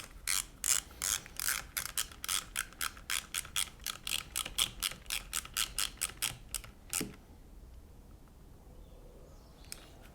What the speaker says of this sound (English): And then just going to put the screw back in here.